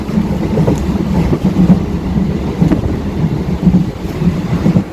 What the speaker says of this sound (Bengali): এই মুহূর্তে কিন্তু আমাদের ট্রেন এসে পৌঁছালো শান্তিপুর স্টেশনে